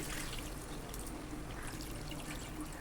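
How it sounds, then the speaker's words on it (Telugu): Water poured into a pan of Nellore-style tamarind fish curry, a close, soft continuous splashing and trickling with no break. "మనకు పులుసు ఎంత కావాలో అంత వాటర్ కూడా యాడ్ చేసుకొని"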